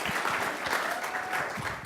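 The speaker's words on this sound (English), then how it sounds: "Round of applause." Audience applause for a finalist at a university business competition, dense steady clapping from a crowd filling the whole moment at an even, fairly close level.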